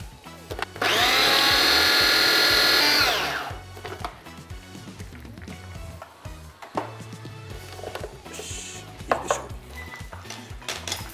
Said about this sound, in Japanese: フープロにかけます